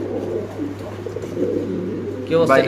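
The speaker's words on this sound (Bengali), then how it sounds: "নরটা ডাক্কা দেখা স্প্যানিশ কবুতর" A male Spanish pigeon coos in a pigeon market, with a steady low hum and background voices.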